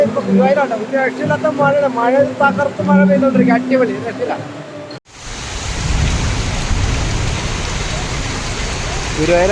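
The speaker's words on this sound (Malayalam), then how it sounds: "മഴ" A person talks briefly, then a loud, heavy downpour takes over in Guruvayur, a dense steady roar of rain close by.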